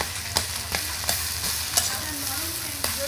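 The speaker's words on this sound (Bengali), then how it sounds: "এইভাবে নেড়ে চেড়ে একটু সময় নিয়ে ভালো করে কষিয়ে নেব" Banana flower curry is stirred and sautéed in a frying pan with a spatula, giving a steady soft sizzle broken by several sharp scraping knocks at irregular intervals, close and alone without talk.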